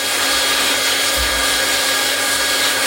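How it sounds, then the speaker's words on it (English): Hot air plastic welder running steadily while welding plastic with a rod, a loud, constant close-up blowing roar like a hair dryer, with a slight low rumble shift midway and no talking. "Keeping the welder going up and down the rod, the actual welding rod,"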